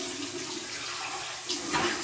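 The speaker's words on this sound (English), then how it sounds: "here's my cold water rinse" Cold tap water runs steadily over a freshly shaved face and hands, a close, continuous splashing rush with a brief louder surge of splashes near the end.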